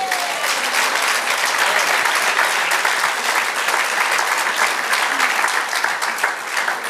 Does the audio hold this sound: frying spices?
no